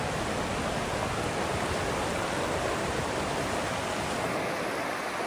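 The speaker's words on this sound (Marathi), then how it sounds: "पाण्याचं प्रेशर बघा एकदम जास्त आहे" Fast, powerful water rushing past a broken bridge in Ladakh, a dense, unbroken roar that stays loud and close throughout with no other sounds.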